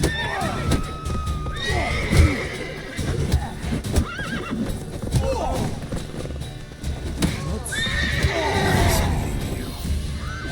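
Horses in the Witcher 3 video game whinny and neigh over clip-clopping hooves, with shouted combat voices and game music blended in.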